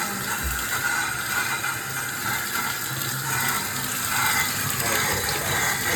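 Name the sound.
water running from bathroom shower tap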